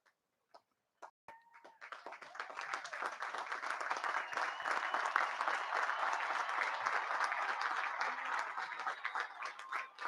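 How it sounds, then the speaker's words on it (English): Graduates at a military academy commencement burst into applause for their families: a few isolated claps at first, then a large crowd of hands building into a broad, sustained ovation that carries on loudly to the end. "give a big round of applause to your families"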